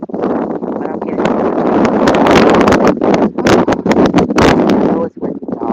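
Strong wind buffets the microphone in loud, rumbling gusts that rise and drop, with a voice speaking over the blustery roar.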